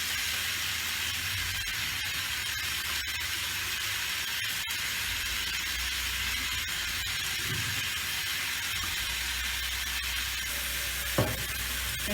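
Katla fish masala sizzling and frying in a pan while it is stirred, giving a steady close hiss with faint scraping and no talking.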